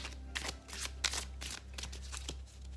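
Love oracle cards being shuffled by hand in a quiet room, a steady run of papery riffles and soft slaps in close succession, with no talk over them.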